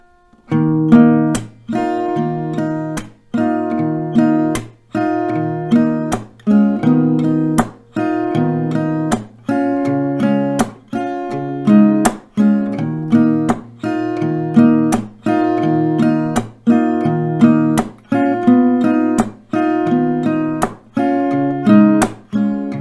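An acoustic guitar strums a steady, moderately slow verse pattern, with crisp percussive hits recurring at regular intervals between the chords.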